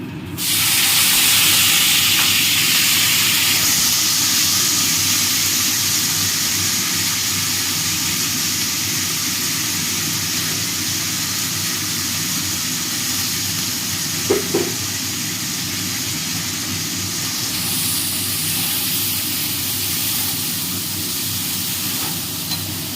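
Chopped potato hisses and sizzles in hot oil in a frying pan, a loud steady frying roar that eases slightly over time with a brief clatter midway, no voices.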